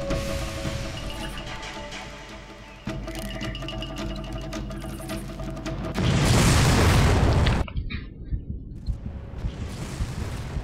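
Explosions from rocket launcher fire in Far Cry, with heavy booms and a loud sustained blast over busy game sounds, then scattered softer impacts.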